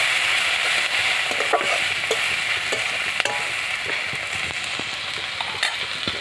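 Onions fry in a covered pot with salt and two green chillies while pyaz posto is cooked, a steady close sizzle broken by faint clicks of stirring, with no voices.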